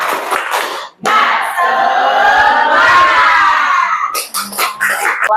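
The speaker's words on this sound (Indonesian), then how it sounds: "Tepuk semangat." A secondary school class, grade 11, shouts a loud spirit cheer together, a sustained crowd yell with bursts of rhythmic clapping and thumps at the start and end, close and energetic.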